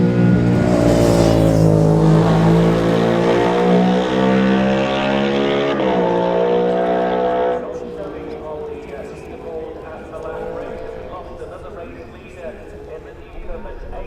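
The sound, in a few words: racing motorcycle passing, Isle of Man Manx Grand Prix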